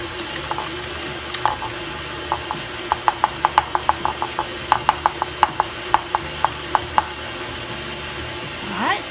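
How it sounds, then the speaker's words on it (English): Eggs being beaten in a bowl for zucchini bread batter: a quick, irregular series of sharp clicking taps against the bowl over a steady low background hiss, fairly close. "I'm going to beat that well and then add my oil."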